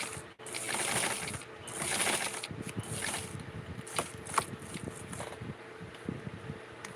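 A sewing machine stitching a Halloween outfit for a Skipper doll, a close mechanical whirring with rhythmic clicking and ratcheting bursts that start, pause and resume, with no talk.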